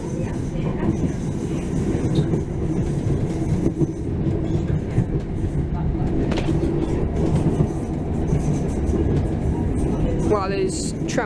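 Manchester Metrolink tram on the Eccles line pulling away from Cornbrook, a steady loud rumble of wheels and motors with rhythmic rail clatter throughout, a brief wheel squeal near the end, and a voice talking over it.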